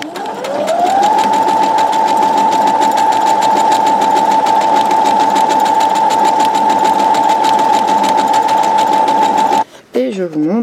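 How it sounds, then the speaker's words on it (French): A sewing machine stitching fabric runs at a steady fast whirring hum for about nine seconds, loud and close, then stops abruptly as a voice starts speaking. "je remets mon tissu sous la machine"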